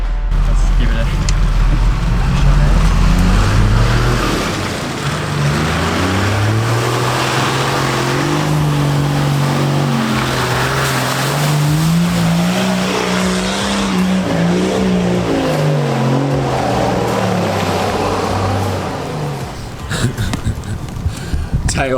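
A 4x4 Nissan Patrol or Toyota Landcruiser engine working hard in low range up a steep offroad hill, loud close revving that rises and falls through the climb, with voices talking over it.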